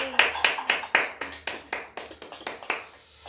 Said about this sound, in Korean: 우리 주님께 감사의 박수 올려드리겠습니다.